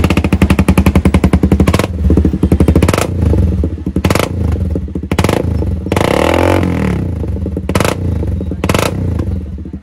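A Honda CBR 250R motorcycle fitted with a Bullet-style double-pipe exhaust idles and revs close by, its engine thumping in a loud, steady pulse with repeated sharp blips of throttle.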